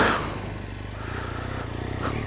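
Motorcycle fitted with a new Remus Hexacone slip-on exhaust, riding with a steady droning engine note that starts a little louder and holds level, heard alone without talk.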